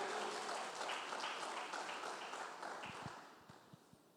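A church congregation claps and cheers loudly in a steady burst that slowly fades, with scattered final claps at the end.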